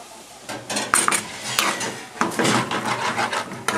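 Metal ladle scrapes and clinks against a pan as base gravy goes into a chicken jalfrezi curry, with a brief sizzle and stirring rasp under steady kitchen noise.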